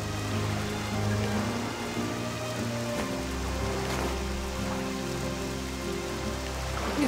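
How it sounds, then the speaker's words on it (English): Steady rain from the video game Octopath Traveler II, a continuous hiss of rain falling on surfaces with scattered drops, joined by a low background drone from about midway through. "You're our only hope of saving people from this foul rain."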